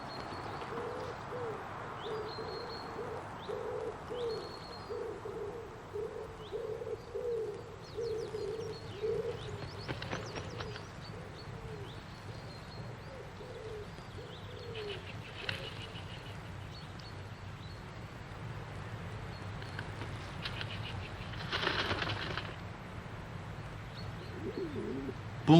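Wild pigeons coo in soft repeated phrases, fairly distant and faint, over a low steady background with a few scattered noises.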